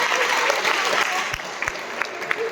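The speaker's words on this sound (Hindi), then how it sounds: "तो जोरदार तालियां" An audience claps loudly at a school inter-house poetry recitation competition, a dense burst of applause that thins into scattered claps over a couple of seconds.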